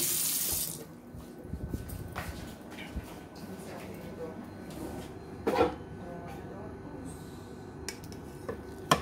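Tap water runs into rice being wetted and washed at a kitchen sink, a steady splashing stream with a few louder splashes and clatters, some voices in the background.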